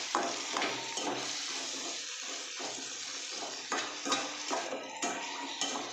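Broad beans and onions are stirred in a cooking pan over steady, close sizzling, with a spoon scraping and clinking against the pan in repeated irregular strokes.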